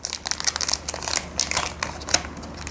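Someone opens the plastic wrapper of a Pokémon card pack by hand, close up, with irregular crisp crinkles and rustles coming in short bursts with no talking.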